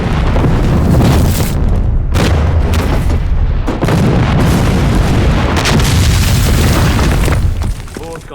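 Tanks exploding and burning in a war battle scene, loud, continuous booming blasts and rumbling fire that overlap without letup and fade slightly at the very end.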